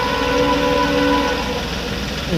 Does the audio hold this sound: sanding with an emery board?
no